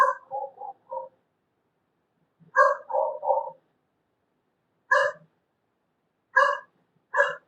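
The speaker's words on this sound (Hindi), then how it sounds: "किसी को तो भी बुला रहे बाजू के कुत्ते" Neighbouring dogs bark from close by in short clusters of two or three sharp yaps, then isolated single barks, with clear silent pauses between bursts and no voices over them.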